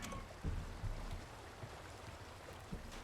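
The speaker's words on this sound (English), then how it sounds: "Oh, I can hear the water." Running water trickles through a dark sewer in Resident Evil 4, a steady low wash of flow with a few soft splashes and thumps scattered through.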